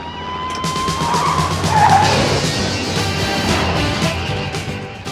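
Car skidding as it swerves off a road into woods in the 1980s action film Midnight Run: loud tire squeals and engine roar over several seconds, a sharp screech near the middle, no talk.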